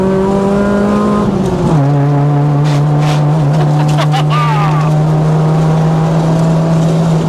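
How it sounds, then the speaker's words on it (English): A Nissan Almera GTi with a cammed SR20 engine drives along, its steady loud engine drone holding after a gear change, with voices talking faintly over the cabin noise. "the noise this car makes"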